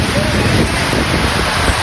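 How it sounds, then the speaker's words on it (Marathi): Rain falls outside at Bhushangad Fort near Satara as a loud, continuous hiss that fills the whole moment, with a voice faintly present underneath. "बाहेर बघा, आम्ही खाली उतरलो आणि पाऊस चालू झाला"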